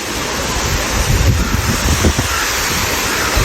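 Steady, dense rushing waterfall noise in a Thai national park with a constant roar and occasional low gusty rumbles, like wind buffeting the microphone.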